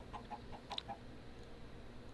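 Several chickens in the game Minecraft cluck in short, separate bursts inside a chicken-spawner redstone build, fairly faint over a low steady background hum, with no talking.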